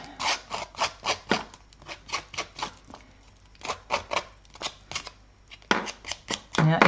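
Designer series patterned paper torn by hand for a floral card, a close run of crisp ripping and rustling strokes in short bursts with brief pauses between them.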